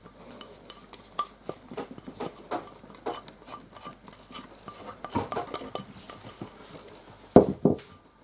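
A spoon scraping and knocking against a bowl while yeast dough for a pie is mixed, irregular clinks and scrapes close by, ending in a few louder knocks.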